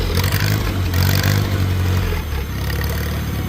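A tractor engine is revved up close, a loud, steady low rumble with mechanical clatter that rises slightly and then settles back to idle, with no talking.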